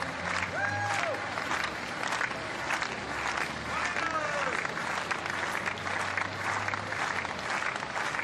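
Home crowd applauding a high jumper at an athletics meeting in Borås, a steady wash of clapping and murmuring that carries through the whole stretch, with a commentator's voice heard faintly over the top.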